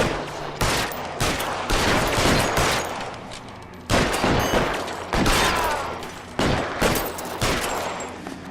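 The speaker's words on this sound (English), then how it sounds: "Dude had a Tommy gun!" Tommy gun fired in repeated bursts, loud close rattling volleys broken by short pauses, with several sharp heavy reports standing out through the sequence.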